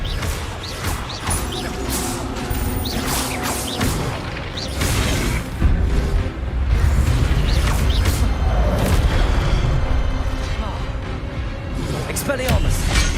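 Expelliarmus disarming spell effects in the Hogwarts Legacy video game, a dense stretch of magical booms and crashing bursts layered over game music and ambience, with a voice talking throughout.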